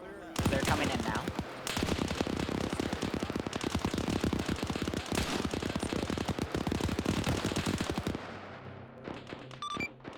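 MG42 machine guns firing in a video game, fast continuous bursts of sharp rattling shots stacked in dense volleys for about eight seconds, with a voice talking underneath and a quieter tail at the end.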